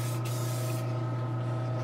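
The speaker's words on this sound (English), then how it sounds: "When the bottle is spraying correctly" A spray bottle sprays paint onto an anime model kit: one short hissing burst, loud and close, lasting under a second, then a quieter steady hum alone.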